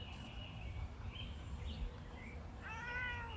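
A cat chattering at a bird on a fence: faint, thin chirps and a short trilling run near the end, heard over a steady low outdoor rumble, with no talking.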